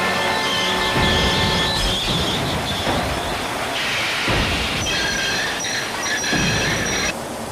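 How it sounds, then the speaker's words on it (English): Loud, high-pitched metallic screeching of train brakes rises and shifts over a heavy rumble, with sustained whining tones lasting several seconds. "Toby's driver applied the brakes. The screeching sound woke Toby up."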